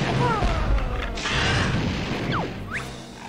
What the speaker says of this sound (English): Oh, okay, these are cannons,